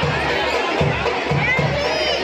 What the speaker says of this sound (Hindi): माता रानी कितनी ज़्यादा भीड़ तेरे दरबार में है